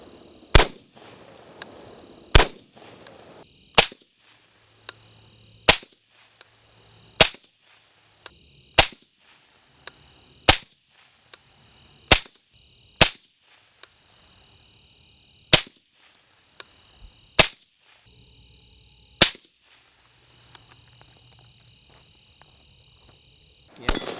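A Tavor 7 bullpup rifle in 7.62x51 fires standard ball ammunition, first unsuppressed and then with a suppressor fitted, across a series of gas settings. About fifteen sharp, loud single shots ring out at irregular intervals of one to two seconds.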